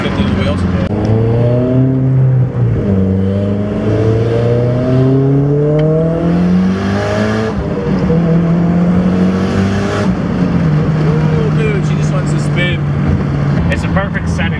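A turbocharged Evo fitted with a 60 mm turbo and making about 350 wheel horsepower runs hard on a dyno, its loud engine tone climbing steadily through long pulls with brief dips between them.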